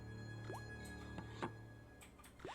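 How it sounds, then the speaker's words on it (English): Water dripping in a quiet room in the Broken Sword: Shadow of the Templars adventure game, a few separate plinking drops at irregular intervals over a low steady ambient hum. "I can hear dripping water, but nothing else."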